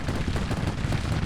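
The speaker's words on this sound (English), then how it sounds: "Gatling gun." A Gatling gun firing in the Civil War strategy game Grand Tactician, a rapid, continuous rattle of shots over a dense battle roar.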